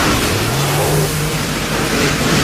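A pressure washer's small engine drones steadily and loudly throughout, a continuous motor hum with no voices.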